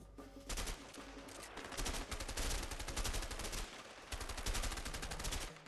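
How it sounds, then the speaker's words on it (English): Dense, continuous rapid gunfire in the game A Way Out, repeated automatic bursts filling nearly the whole stretch, loud and close with no talk over it. "as I continually shoot this guy"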